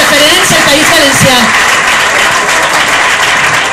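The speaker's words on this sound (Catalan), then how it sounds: "Un aplaudiment per al Flaco" An audience applauding the photographer Flaco at a book presentation at the València book fair: loud, dense clapping filling the room throughout, with a voice speaking briefly at the start.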